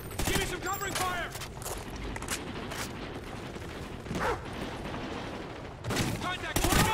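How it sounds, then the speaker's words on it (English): Bursts of gunfire in the Call of Duty: Ghosts game, fast rattling volleys and sharp single shots at moderate distance, with mechanical clatter and shouted voices between them. "Lay down suppressing fire!"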